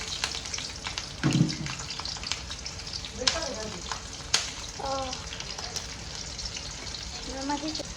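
Chili peppers and garlic roasting in a pan at home, a steady close sizzle and crackle with occasional stirring scrapes and clinks, while a voice speaks briefly over it.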